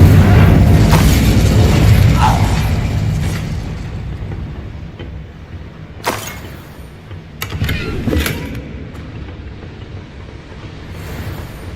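Incendio fire spell cast in the video game Hogwarts Legacy: a loud booming burst of flame that opens the clip and slowly dies away, followed later by a few sharper pops and rumbles.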